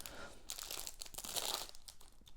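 Resealable plastic jewelry packaging crinkling, bursts of crisp rustling and crackling handled up close for a couple of seconds.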